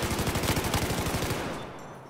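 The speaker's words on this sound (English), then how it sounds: "Oh, I'm getting shot at." Rapid automatic gunfire in Battlefield 4 multiplayer on PS4, a dense burst of close shots in quick rhythm that thins out and fades over about two seconds, with no talk.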